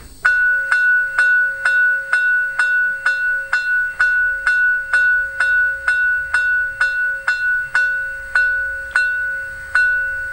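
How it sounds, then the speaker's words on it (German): Sound decoder of a Roco V 100 model locomotive plays a bell, struck about twice per second in an even, steady rhythm with each ring decaying briefly, clear and close with nothing else heard. "Dann die Glocke."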